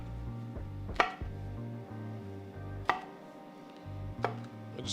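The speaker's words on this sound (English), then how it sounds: "I just cut the tops off, and then we're just gonna slice them down." Knife slicing down through bell peppers with their tops cut off, three sharp distinct chops spaced a couple of seconds apart over a steady background hum, alone with no talk.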